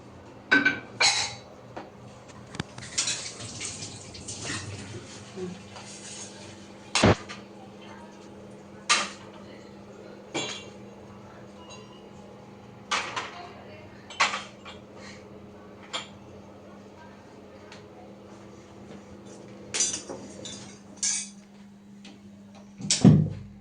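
Clinks and taps of cups, dishes and a spoon while tea is poured for serving, scattered sharp knocks over a quiet background with a steady low hum.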